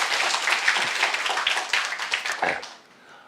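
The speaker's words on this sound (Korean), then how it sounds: "박수 한번 주세요." An audience of high school students at a lecture breaks into applause, a dense burst of clapping hands that fills the room for about two and a half seconds before trailing off.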